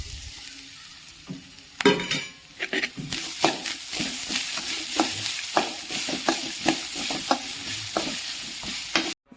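Grated coconut and raisins sauté in a pan with a steady sizzle, while a spoon stirs and scrapes in repeated sharp knocks from close by, and no one speaks.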